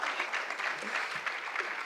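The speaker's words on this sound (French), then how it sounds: "Je pense qu'on peut applaudir." Steady applause fills a company gathering, with hands clapping evenly throughout at a moderate, somewhat distant level.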